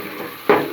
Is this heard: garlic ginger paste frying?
yes